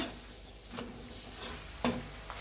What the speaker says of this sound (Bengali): লাল লাল করে পরোটাটা ভেজে নিব।